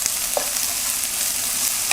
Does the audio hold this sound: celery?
yes